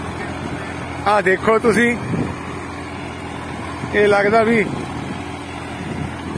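A Sonalika 50 RX tractor pulling a 23-tine cultivator through a field drones low and steady in the background while someone talks over it in two short bursts.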